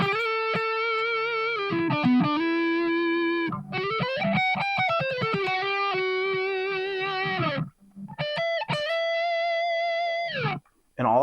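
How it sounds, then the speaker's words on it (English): Distorted electric guitar holds sustained notes with a wavering vibrato, playing almost continuously with a couple of brief gaps. "Here's what it's like with a little distortion."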